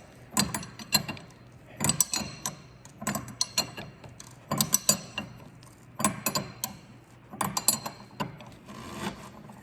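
Ratcheting on the strut nut of a 1989 Mustang during strut replacement, a series of sharp metallic clicking bursts in repeated quick runs, fairly close and moderately quiet, with no voices.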